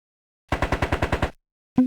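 Gunfire at a shooting gallery in the Sam & Max adventure game, a quick burst of about eight evenly spaced shots, loud and close, followed by a short pause and one more sharp sound.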